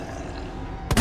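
A single sharp gunshot in the Resident Evil 2 video game bursts out loudly near the end, after a stretch of low, steady ambient game noise.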